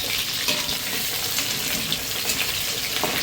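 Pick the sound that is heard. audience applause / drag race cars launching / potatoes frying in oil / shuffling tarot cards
potatoes frying in oil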